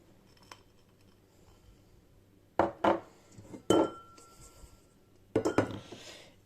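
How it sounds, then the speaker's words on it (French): Bowls and flour go into a food processor bowl for homemade bread, producing a few distinct clattering knocks and clinks of hard dishware in a quiet kitchen, in separate bursts with pauses between. "dans le récipient du robot, on met les 2 bols, plus la farine"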